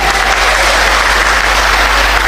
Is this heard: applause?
yes